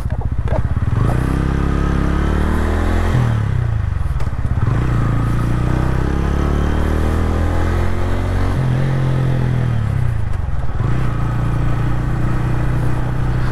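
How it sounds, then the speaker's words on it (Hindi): A loud TVS Ronin 225 motorcycle engine rumbles continuously while riding, rising and falling as it revs up and shifts through gears. "आप देख सकते हो ये बाइक क्या साउंड कर रही है यार"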